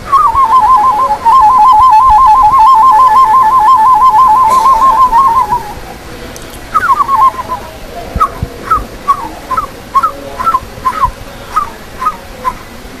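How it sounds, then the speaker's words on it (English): A dove calls outdoors in the morning, a long run of repeated tonal hoots followed by a pause and then a series of shorter, evenly spaced coos, clear and fairly close with no talk. "So do you know the call of that bird?"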